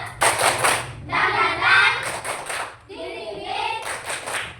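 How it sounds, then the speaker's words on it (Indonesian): A group claps a rhythmic cheer in quick, even bursts of sharp hand claps, alternating with sung and chanted voices. "Ayo, tepuk semangat."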